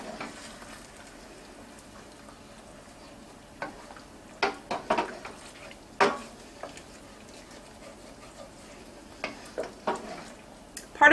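Marsala cooking wine is stirred into a hot pan of beef medallions and mushrooms, giving a low steady sizzle broken by scattered clicks and scrapes of a utensil against the pan, with no talking.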